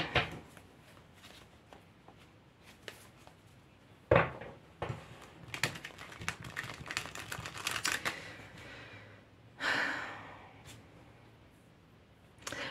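Tarot cards are shuffled and handled close up, a run of soft papery riffles and flicks with a few sharper taps and slaps of the deck, quiet overall with brief pauses between bursts.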